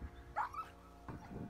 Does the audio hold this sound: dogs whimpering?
yes